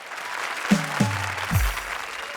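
Studio audience applause on a TV comedy show with Kapil, a steady bed of clapping under which three descending tonal sound effects play in quick succession.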